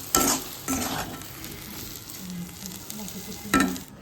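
Fried loitta fish jhuri gets stirred in a pan, a dry frying crackle with a few sharp scraping strokes at the start and end, close and without talk.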